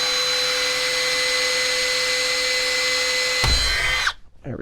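A power drill whines steadily at close range for about three and a half seconds, drilling a hole for an antenna mount on a Jeep TJ bull bar, then winds down and stops.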